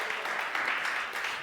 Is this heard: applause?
yes